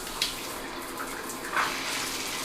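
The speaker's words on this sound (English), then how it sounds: "So now the only thing we need to do is turn the water back on and test it." A Delta In2ition handheld shower head sprays water in a steady, hissing rush, close and continuous, with a couple of small splashy bumps.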